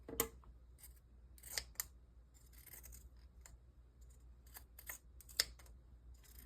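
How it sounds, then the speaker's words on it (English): Pinking shears trim the fabric seam allowance on a pair of sewn pants: a string of crisp, close snipping cuts, some single and some in quick bursts, separated by quiet pauses. "I'm using my pinking shears here."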